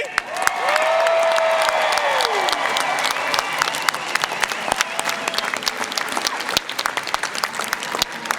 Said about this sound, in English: I expect to hear some applause out there on Avalon Boulevard.